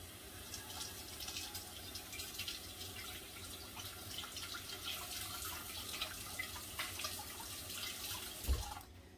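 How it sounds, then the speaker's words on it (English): Tap water runs steadily into a sink as potatoes are rinsed, a continuous close splashing wash with a brief knock near the end and no talking. "Sometimes when you rinse your potatoes, there's one that gets kind of down towards the bottom."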